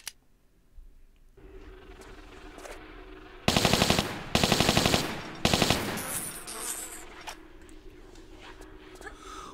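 Buzzing bee swarm in Tomb Raider 3, heard as a low drone behind game noise, broken by three loud rattling bursts in quick succession around mid-clip. Someone talks over it.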